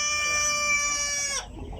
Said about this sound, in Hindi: सिल्की नस्ल के मुर्गे।